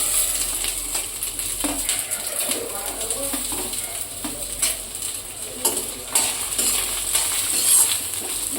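Chopped onions hit a pan where grated ginger was cooking over low gas, for dhaba-style hakka noodles, then get stirred; a soft continuous sizzle runs throughout with scraping and clinking of the spoon against the pan.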